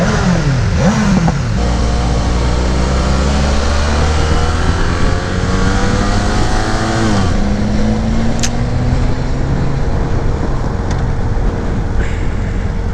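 A BMW 1200 motorcycle engine on a road ride, a loud steady roar that rises in pitch through the gears and then settles, heard close with steady wind noise and no talking.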